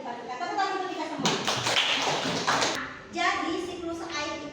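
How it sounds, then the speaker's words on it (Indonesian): Children in an elementary school classroom give a short round of applause, a dense burst of clapping lasting about a second and a half, with young voices talking before and after it. "Tepuk tangan untuk kita semua."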